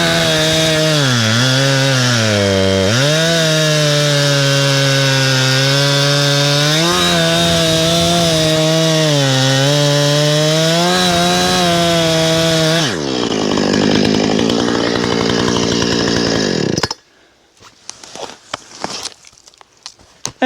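A Husqvarna 455 Rancher chainsaw roars loudly and steadily up close, its engine pitch rising and dipping as it bites through wood, then cutting out into scattered clatter.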